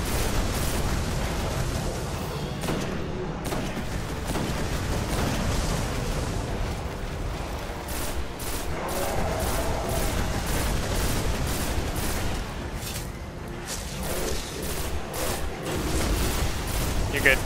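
Dense, continuous gunfire and explosions in the video game Destiny, with rapid bursts and booms layered throughout while players talk over the action.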